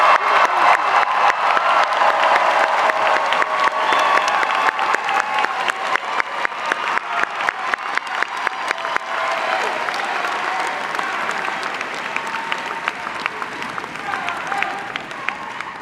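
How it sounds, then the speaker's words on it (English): A large audience at a law school commencement ceremony claps loudly with scattered cheers, a dense, sustained ovation that gradually thins into more distinct individual claps near the end. "Let's do one more big round of applause for the class of 2024."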